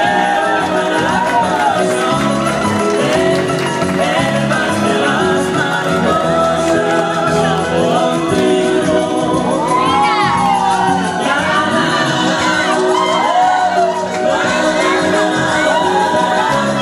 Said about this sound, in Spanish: si nos podemos poner de pie para darle un aplauso a Michelle.